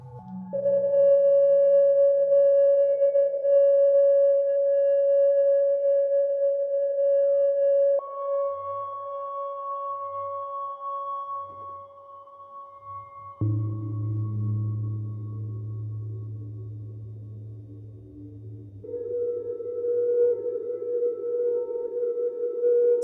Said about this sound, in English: And also move resonator frequency to create some tones.